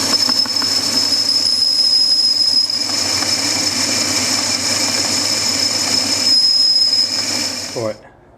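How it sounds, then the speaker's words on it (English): An old metal lathe runs continuously while machining a Rover SD1 propshaft, giving a steady mechanical drone with a high, squealing whine that fades out at the end. "it's making some lovely noises, which it will because it's a bit of an old bugger, this lathe."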